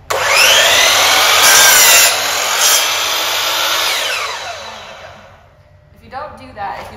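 A power saw cuts through wood for a stretcher build, a loud sustained buzzing rasp that holds steady for about four seconds, then fades as the blade clears the wood, followed by a few brief softer sounds near the end.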